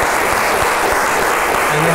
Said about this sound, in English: a big round of applause for you, the studio audience.